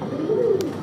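Pigeon kept in a Bengali pigeon farm sale setting, a single close low coo lasting under a second, with a voice talking over it.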